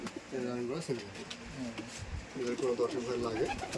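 Giribaz pigeons at a farm coo in repeated rolling phrases close by, two bursts with a short pause between, while someone talks over them.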